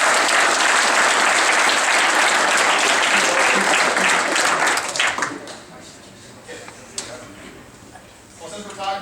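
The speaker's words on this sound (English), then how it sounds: "So before I am done, one round of applause," Banquet audience at a high school football awards ceremony applauding loudly and steadily, the clapping fading after about five seconds into scattered claps and murmuring voices.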